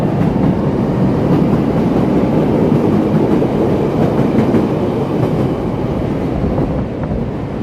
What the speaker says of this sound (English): It sounds like we're getting another L train coming by here.